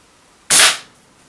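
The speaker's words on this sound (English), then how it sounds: "you've got no blowback or anything when you fire it in, it's a single shot" A break-top Contender gas pistol fires a single sharp, loud shot that decays quickly into quiet.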